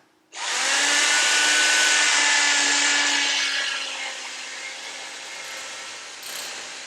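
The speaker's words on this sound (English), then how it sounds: "We have an electronic chainsaw." A loud, steady electric motor whine starts abruptly and drones on, easing slightly partway through, as an electric carving knife cuts through a turkey leg.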